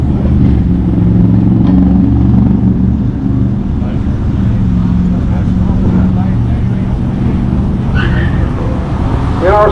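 A Buick Grand National drag racing engine roars loud and close at the AHRA No Name Nationals, a steady heavy drone holding throughout with a commentator talking over it.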